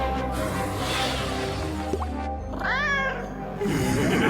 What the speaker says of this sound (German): Bedrohliche Katzengeräusche, ja.